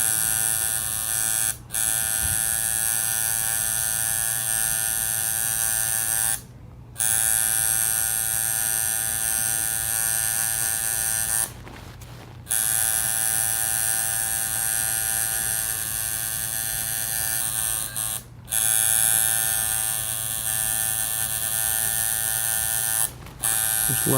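A tattoo outliner machine buzzes loudly and close while adding texture to a portrait tattoo, a steady electric drone broken by a few brief pauses where the needle stops.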